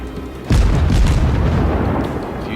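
A warship in the World of Warships video game fires a full gun salvo: a loud, deep boom erupts about half a second in and rolls on as a sustained low rumble to the end, with no talk.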